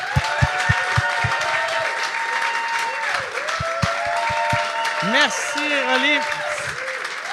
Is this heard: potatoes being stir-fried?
no